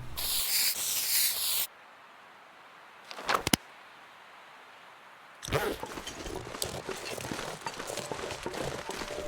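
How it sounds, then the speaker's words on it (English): A hunting area spray is used in a survival video game, giving a short hissing spray burst between stretches of noisy outdoor game ambience and quiet gaps. "this is actually a good use of the hunting area spray."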